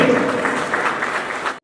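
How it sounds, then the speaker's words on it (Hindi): Audience at a community foundation-day celebration claps loudly for about a second and a half, a dense burst of applause that cuts off abruptly at the end. "इनकी लिए जोरदार तालियां होनी चाहिए"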